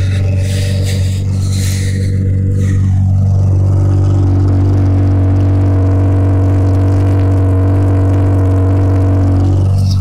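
An Audi A4 with a 2.8 engine and broken exhaust idles loudly and close, a deep steady drone with a rev and clattering at the start before settling into a continuous rumble, on a snowy day; no talking.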